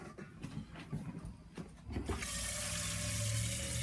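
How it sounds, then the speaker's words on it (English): Tap water runs into a pot for a guitar pickup wax-potting job, a few quiet splashes and clatters first, then a steady louder rushing pour that fills the pot. "You take your pot, grab another pot, add some water"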